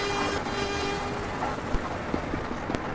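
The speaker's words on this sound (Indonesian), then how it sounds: "itu Tokyo Pakuan Express 10 kereta" Tokyo Pakuan Express 8500 series train, ten cars, rumbling steadily along the rails at moderate distance with a few sharp clicks and knocks over the track joints, no voices.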